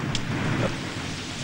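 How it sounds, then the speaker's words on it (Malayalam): Sudden rain pours down in a steady, close hiss, with a low rumble of thunder underneath, alone and without voices. "പെട്ടെന്നൊരു മഴ"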